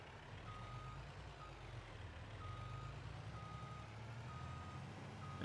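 Truck backing up in Farming Simulator 22, its reversing alarm beeping at a steady spaced rhythm over a constant low engine rumble; someone speaks briefly.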